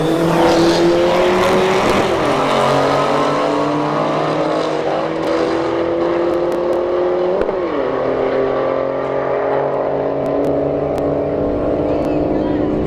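An S550 Mustang and a Dodge Neon SRT4 run a street drag race at a motorsports park, loud engines winding up and stepping through gear shifts as the cars pull hard, the roar gradually fading into the distance.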